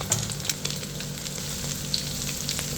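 Instant noodles stir-fry in a pan with sliced carrots and oyster sauce, giving a steady close sizzle broken by a few light clinks of stirring.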